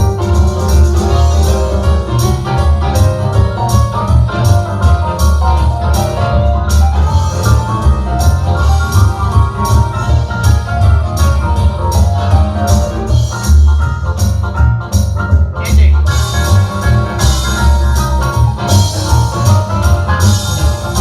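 A Williams Symphony Grand II digital keyboard plays an auto-accompaniment style intro and ending, a dense, loud full-band arrangement with steady drums and bass running continuously throughout without any talking.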